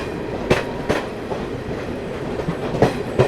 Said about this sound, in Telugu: the maharajas express, the most expensive train